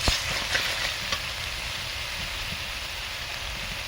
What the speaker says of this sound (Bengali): দেখো মশলাটা কত ভালোভাবে কষানো হচ্ছে, লাল লাল হয়ে।